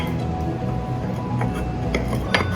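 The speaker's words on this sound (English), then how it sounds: "So I have these 2 ceramic weights, and they just go in." Two ceramic fermentation weights go into a jar of packed homemade kimchi, giving a few light clinks and scraping knocks against the container over a steady background hum, with someone talking faintly.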